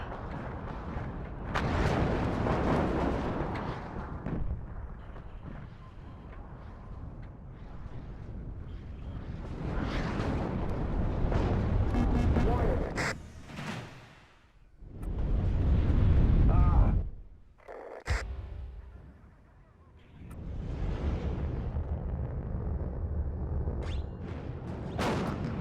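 Artillery shells slam down in WARNO in a series of loud, heavy booms, several long rumbling blasts rolling one after another with brief quieter gaps between them, while a voice talks at times.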